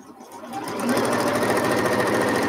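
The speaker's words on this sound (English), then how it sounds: "cut them apart and sew them together" Sewing machine stitching quilt block pieces together, a steady rapid mechanical whir and patter that starts softly and quickly rises to a constant loud hum, close and without talk.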